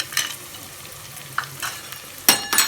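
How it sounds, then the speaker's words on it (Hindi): Ginger, garlic and onion fry in a pot for haleem as tomatoes are added. A soft sizzle and scattered stirring scrapes lead to louder clattering strokes of a spoon against the pot near the end. "यहाँ पे हमारा अदरक लहसुन और प्याज अच्छे से भून चुका है। तो हम डाल लेते हैं टमाटर"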